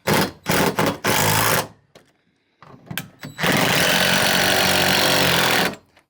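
Power tool driving fasteners to tighten a wall mount for a TCL 98-inch QM7 TV against the wall, loud close bursts of whirring grind, two short runs then a longer sustained run after a quiet gap.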